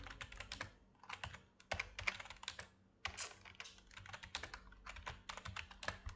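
Someone types steadily on a computer keyboard, fast bursts of close, crisp key clicks broken by brief pauses, quiet and with no talking.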